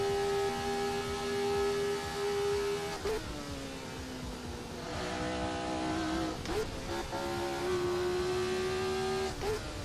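A car engine in the Assetto Corsa racing game hums at steady pitch, dropping briefly with gear-change blips before climbing again, a continuous close drone through the whole stretch.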